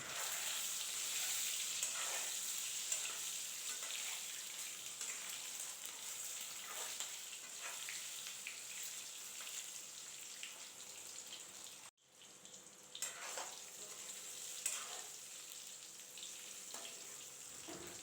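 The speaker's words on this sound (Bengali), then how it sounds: "ডিমগুলো হালকা করে ভাজা করে নেব, খুব বেশি কিন্তু লালচে করে ভাজা করব না।" Eggs fry lightly in oil in a pan for a brinjal and egg curry, giving a steady, close sizzling hiss with faint clicks and pops. The sound cuts out briefly near the middle.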